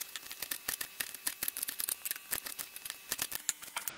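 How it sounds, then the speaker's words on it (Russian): A knife chops a fresh, just-picked garden bell pepper in a quick, steady series of crisp, close taps with no one speaking. "Крошим перчик."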